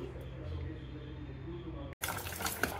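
Water is poured onto tamarind to soak it for pulihora, a steady running pour filling the pot before a brief break and a brighter, louder splash at the end; no one speaks over it.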